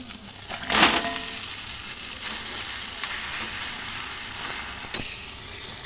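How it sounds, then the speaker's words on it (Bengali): A fried catla fish head goes into hot, sizzling spice masala in a pan, bringing a sudden burst of frying crackle over a steady sizzle, with another sharp splash of sizzle later. "ভেজে রাখা মাছের মাথাটা এবার ওই মশলাটার মধ্যে দিয়ে দেবো"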